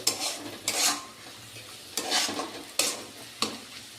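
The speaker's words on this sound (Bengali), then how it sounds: "এখন হচ্ছে আমার আলু ভাজা" Potatoes fry in a pan, a continuous sizzle broken by several sharp scraping bursts as a spatula stirs and scrapes the pan at irregular intervals.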